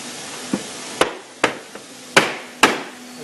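Industrial 400 reel barrel being tapped down onto its key during assembly: six sharp knocks in an irregular rhythm, close and fairly loud, with no talk.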